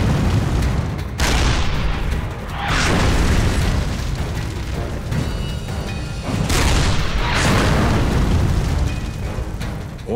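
Heavy cannon fire from Tiger tanks in a battle against Soviet tanks, heard as loud booming blasts with rumbling aftermath, with large bursts near the start, around 2.5 seconds and around 6.5 seconds, over continuous battle noise.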